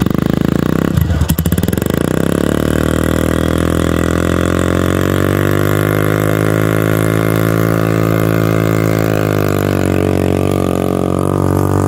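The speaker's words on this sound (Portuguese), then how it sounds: "Vocês acharam que o escapamento ficou bom" A Yamaha TTR150 motorcycle fitted with an aftermarket sport exhaust idles loudly and steadily up close, with one brief blip of revs near the start before settling into a constant, throaty drone.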